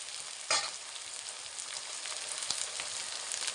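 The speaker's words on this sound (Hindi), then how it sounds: "अब हम इसमें डाल देते हैं अदरक।" Chopped ginger hits hot oil in a pan with cinnamon and bay leaves for a winter soup, giving a steady close-up sizzle with a sharp crackle as it drops in and occasional stirring scrapes.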